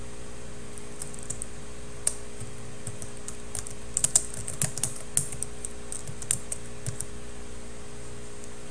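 Keystrokes on a computer keyboard while information is re-entered into an Edublogs blog setup form, scattered clicks with a quicker burst in the middle, close and fairly quiet over a steady background hum.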